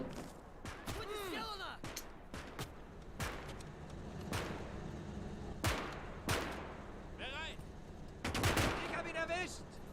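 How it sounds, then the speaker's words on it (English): Tank cannon fire and scattered small-arms shots in a WW2 battle in the strategy game Gates of Hell: Ostfront, a string of sharp booming blasts and cracks at varying distances over a steady battlefield din, with a voice talking at times. "Already, our tank is firing at them."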